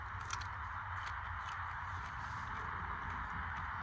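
Someone bites into a crunchy red chili pepper, giving a few faint, close crackling crunches over a steady low background hum, with no talking.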